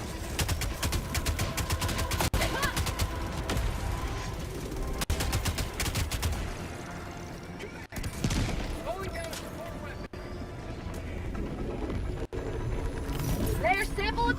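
Sustained automatic gunfire from a deployed sentry turret in Helldivers, dense rapid bursts continuing throughout amid battle noise, with brief pauses between volleys.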